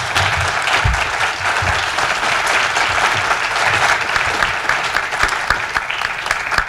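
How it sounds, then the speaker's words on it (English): Sustained applause fills a room at a city council candidates forum, a thick wash of many hands clapping at a steady level from start to finish. "Let's give these folks a round of applause"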